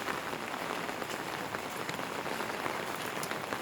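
Steady rain falls outdoors on a rainy day in Wonju, South Korea, a dense, even hiss of drops striking surfaces that holds unbroken and fairly close throughout, with no voices.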